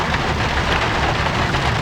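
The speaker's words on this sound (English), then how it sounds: "It's raining again." Heavy rain pours down during a mountain-meadow thunderstorm, a dense, loud, continuous wash of drops drumming on nearby surfaces with no voices.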